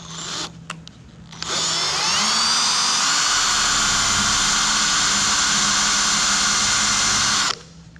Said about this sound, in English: we'll start drilling some pilot holes.